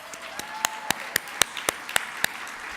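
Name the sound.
audience applause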